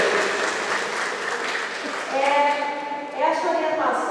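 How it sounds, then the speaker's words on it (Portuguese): An audience at a lecture breaks into loud, dense applause lasting a few seconds, with voices rising over the clapping toward the end. "Uma salva de palmas para a Janete, uma salva de palmas para o nosso militar."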